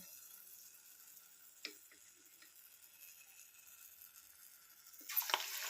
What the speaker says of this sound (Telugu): ఆయిల్ అయితే కాలింది బజ్జీ అయితే వేసుకుందాం ఇప్పుడు